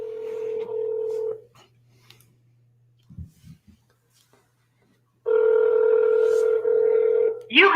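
A phone call placed from a mobile: a tone, a pause with a few soft clicks, then a steady ringback tone sounding close and clear before ending abruptly.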